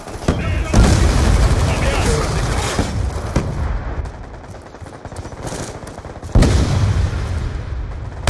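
Grenade explosions and heavy gunfire in a Black Ops 2 match, loud and dense throughout with booming bursts near the start and again toward the end, under clipped in-game radio callouts.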